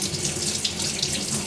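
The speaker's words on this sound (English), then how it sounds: "filling up the kettle with water." Water runs from a tap in a steady hissing stream, splashing into a kettle filling close by.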